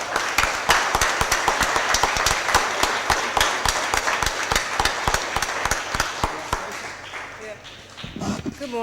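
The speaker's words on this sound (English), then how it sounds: "Let's give Ms. Campbell a big round of applause." Sustained applause from an audience at a Board of Aldermen meeting, steady rapid clapping that fades out near the end as a voice begins speaking.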